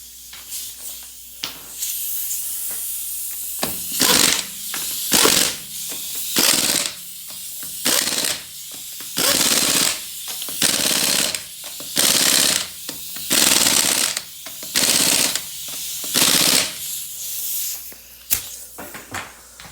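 An air impact gun tightens strut nuts on a Grand Caravan, firing in a long series of short, loud hammering bursts close by, separated by hissing pauses.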